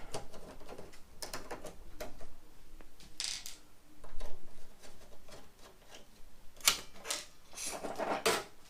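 Bolts are worked loose from the back panel of an Intel MDS-800 computer, giving close, irregular metallic clicks, ticks and small rattles with brief pauses between them.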